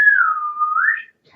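A single clear whistle sounds in a studio for about a second, dipping in pitch then rising again before stopping, close and loud with no talk around it.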